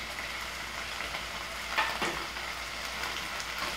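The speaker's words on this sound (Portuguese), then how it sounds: "Jogar o molho de tomate" Tomato sauce going into frying chicken stroganoff, with steady close sizzling throughout and a couple of brief splashy bursts as the sauce hits the pan and gets stirred.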